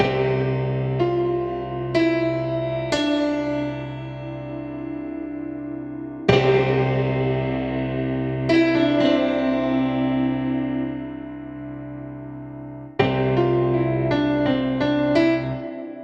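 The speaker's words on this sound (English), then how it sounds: "I love reverb. Let's do some space verb." Keyboard notes and chords from the Sunday Keys app ring out with heavy reverb, each attack trailing off in long, spacious decaying tails.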